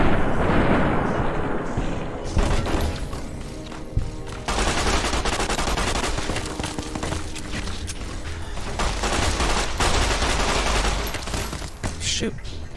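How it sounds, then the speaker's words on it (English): Machine gun fire rattles through a video game set in the Mojave wasteland: a dense opening burst, then sustained rapid volleys with scattered louder blasts, steady and fairly loud throughout. "That's a machine gun."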